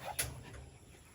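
Nikki, a dog that has just given birth to two puppies, lets out a brief, faint whimper close by in a quiet outdoor setting.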